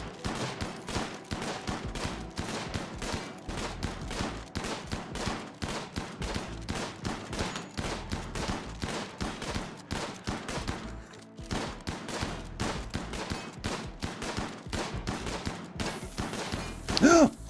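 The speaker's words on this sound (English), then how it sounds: "everyone shoot the thing." Rapid video game gunfire from several players firing at once in a kill-box battle, dense bursts of shots rattling continuously and loudly throughout with brief lulls, ending in a heavier thump.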